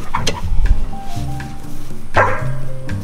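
A dog barks and yips repeatedly near a Ryobi ZT480e electric zero-turn lawn mower that is not yet running, with whimpering between the loud, close barks.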